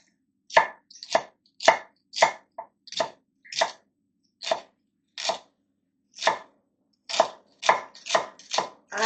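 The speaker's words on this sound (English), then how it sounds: "next, I'm going to cut up the celery. I like to make these pieces fine." A knife chops celery finely on a cutting board for salmon patties: crisp, close chops in uneven runs with short pauses, with no talking.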